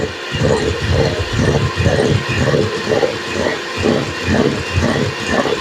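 An electric beater runs at full high speed, whipping eggs for a banana cake, a loud steady motor whir with a rhythmic churning pulse throughout.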